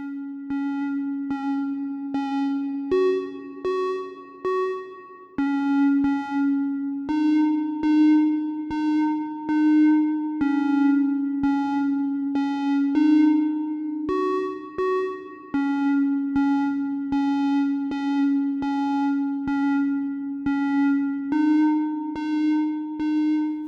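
A Pico synthesizer oscillator playing a mono square-wave melody with reverb, bright buzzy sustained notes in a steady stepwise sequence, each note ringing with a reverberant tail, no voices.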